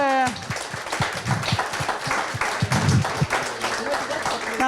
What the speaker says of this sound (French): Oui, applaudissez-vous.